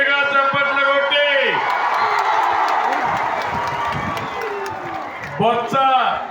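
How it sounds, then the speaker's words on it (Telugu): A large crowd at a political rally clapping and cheering loudly, a sustained roar of applause and shouts, with a voice speaking over it at the start and end. "గెలిపిస్తామని గట్టిగా చప్పట్లు కొట్టి"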